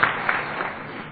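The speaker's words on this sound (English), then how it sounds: "Yeah, you can applaud on that." A crowd at an Alcoholics Anonymous speaker meeting breaks into a short burst of soft, muffled applause, heard from a distance and steady for about a second.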